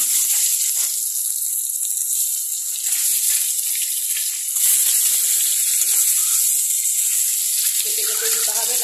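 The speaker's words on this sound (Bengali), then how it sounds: "এবার আমি ডিমগুলোকে ভেজে নিচ্ছি।" Eggs fry in hot oil for an egg curry, a bright, continuous sizzle and crackle close by, steady throughout with slight swells.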